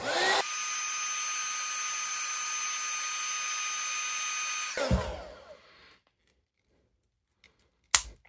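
A heat gun warms a G.I. Joe Classified action figure to loosen its joints for disassembly. Its steady, close whirring blower hiss runs for about four and a half seconds, then winds down into quiet, with a sharp click near the end.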